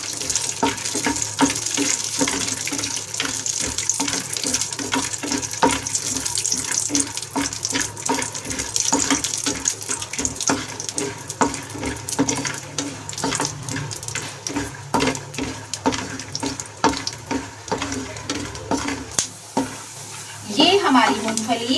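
Peanuts frying in hot desi ghee, a loud, close, continuous sizzle with rapid crackling and the clatter of stirring throughout, ending in a brief louder burst.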